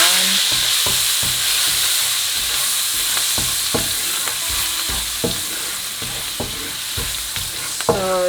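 A full spoon of garlic sizzles in a hot pan for a steak with creamy garlic sauce, a constant bright hiss punctuated by regular scraping knocks of a utensil stirring and swirling it, with no talking.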